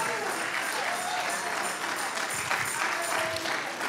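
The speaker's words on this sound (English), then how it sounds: "Give the Lord a hand clap." A church congregation claps hands together in a dense, sustained burst of applause that fills the room, with scattered voices and cheers mixed in throughout.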